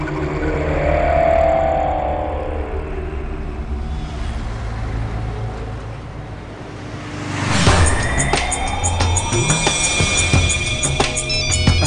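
A car being driven, its engine droning and rising and falling as it moves, with a louder, brighter passing surge midway and a steady rumble throughout; no talk.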